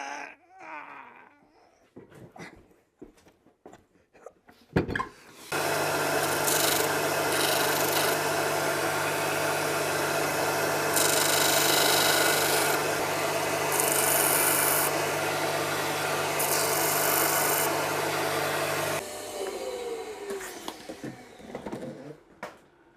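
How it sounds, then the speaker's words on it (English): Wooden dominoes for a river table joint are sanded by machine to loosen a tight dry fit, producing a steady close grinding whir for about fourteen seconds, with handling knocks before and after. "So what I might do is just sand some of these down"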